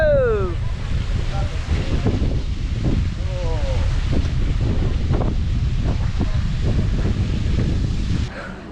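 Steady mountaintop wind near Sapa, Vietnam buffets the microphone throughout, a loud rushing roar with a few faint voices and distant bird-like chirps underneath.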